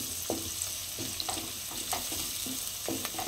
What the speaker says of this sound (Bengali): এখন পেঁয়াজ ভাজার পর্ব চলছে